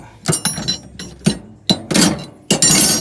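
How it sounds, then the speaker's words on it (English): A large set of heavy wrenches, sizes 1 3/8 to 2 inch, is handled in a mechanic's work truck toolbox, producing a series of sharp metallic clanks and clinks at irregular intervals, close and fairly loud. "big ass set of wrenches"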